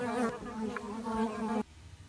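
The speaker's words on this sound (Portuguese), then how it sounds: "Esta é uma vespa das areias de outra espécie, que partilha o mesmo espaço." A sand wasp buzzes in flight with a steady, close, droning hum that cuts off abruptly near the end.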